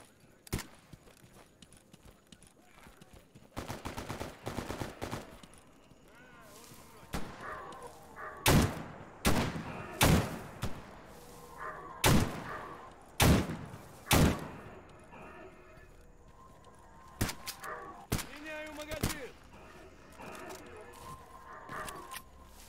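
Gunfire in the video game Stalker GAMMA, a series of loud sharp shots and heavy thuds spaced irregularly over a low background, with someone talking at times.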